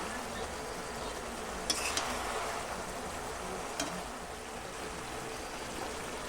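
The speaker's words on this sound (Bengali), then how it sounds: "তো দেখো আমার ক্যাপসিকামগুলো খুন্তি দিয়ে একটু কেটে কেটে দেখে নিচ্ছি সেদ্ধ হয়েছে কিনা" Capsicum and mixed vegetables frying in a pan for pulao, a steady low sizzle with a few soft scrapes and taps of a metal spatula, no talk.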